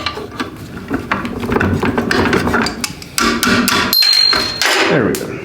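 Hammer blows knocking out the last bolt on a fertilizer spreader, a rapid series of loud metallic strikes and clanks, close up, with a brief ringing tone near the end and no talk.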